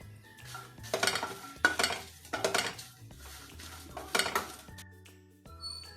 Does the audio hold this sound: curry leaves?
yes